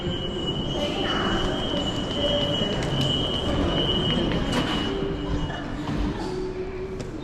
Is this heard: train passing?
yes